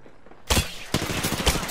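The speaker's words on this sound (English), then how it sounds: "Getting shot at." Gunfire in a shooter video game: a burst of loud, dense shots starting after a brief quiet lead-in, with a couple of sharper cracks standing out in the rattling volley.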